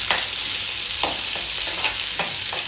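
Onion and garlic sizzle steadily in hot oil, with a few soft stirring scrapes recurring every second or so over the constant frying hiss.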